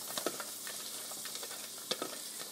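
Garlic and onions frying in a pan for a salmon curry, a quiet continuous sizzle with intermittent stirring scrapes and a few utensil clicks, close by and without talk.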